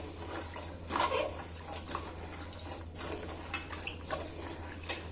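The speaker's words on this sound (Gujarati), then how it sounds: "પાણીથી 3 થી 4 વખત પાણી વડે ધોઈ લેવાના છે બધા જ કેળાને।" Kerda berries for pickle being washed by hand in water, with soft, intermittent splashing and sloshing over a steady low background hum. The sound stays faint and close throughout.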